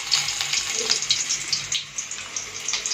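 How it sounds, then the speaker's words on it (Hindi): Steady hissing sizzle of bay leaves frying in hot oil for a tadka, close up, with small crackles and pops throughout. "तेजपत्र पकईदेला"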